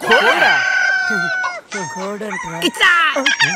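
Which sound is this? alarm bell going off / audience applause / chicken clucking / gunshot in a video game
chicken clucking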